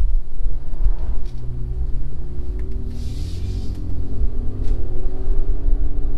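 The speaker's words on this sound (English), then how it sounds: "let's go for a drive" A Toyota FJ Cruiser pulls away with a low rumbling engine that builds steadily, a deep throaty drone heard close from inside the cabin with a few light rattles and no speech.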